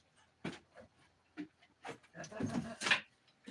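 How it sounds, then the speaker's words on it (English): A dog chews a small plastic camera part indoors, giving a run of short, close, crunchy bursts and gnawing sounds mixed with panting, growing busier toward the end. "Jack, what are you chewing on, Bubba?"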